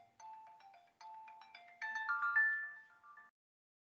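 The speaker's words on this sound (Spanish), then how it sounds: "está que me llama por teléfono, creo, del hospital" Phone ringtone goes off during a lecture on infectious cardiomyopathies, a melodic electronic tune of several notes that builds to a brighter phrase and then stops, heard clearly with no talking.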